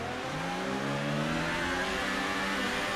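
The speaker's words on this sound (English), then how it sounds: "Listen to that tire spin. How much that engine revs out." A Formula 1 car in the F1 2018 racing game at Spa revs hard out of a chicane, engine pitch climbing steadily with tire spin, loud and continuous with no talking.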